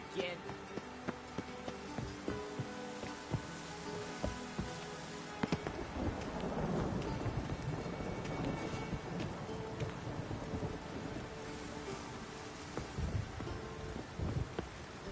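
Rain and a thunderstorm in The Witcher video game: steady rainfall patters throughout with a low rumble of thunder swelling midway, while voices talk over the weather.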